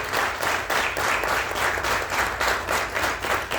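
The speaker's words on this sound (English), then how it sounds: "a big round of applause for Mr. Yogesh Joshi also" Sustained applause from an audience at an engineering award ceremony, dense and rhythmic, filling the whole stretch without talk.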